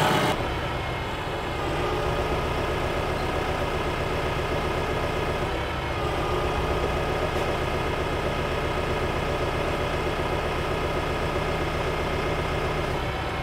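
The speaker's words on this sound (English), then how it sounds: "Let's do a test run on the hydraulics." A Lastec XR700 mower running steadily during a hydraulics test run, a loud continuous engine drone with a constant low rumble and no speech.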